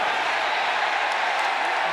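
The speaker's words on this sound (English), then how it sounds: "a mock cheer goes up from those clad in blue" A mock cheer rises from blue-clad fans at a 2022 Kentucky Wildcats at Ole Miss Rebels college football game, a steady, dense crowd roar that holds evenly throughout.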